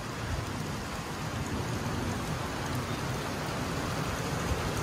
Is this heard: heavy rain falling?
yes